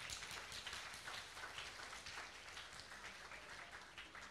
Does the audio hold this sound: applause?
yes